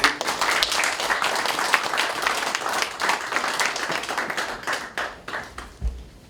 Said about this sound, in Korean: 예, 박수 한번 쳐주세요.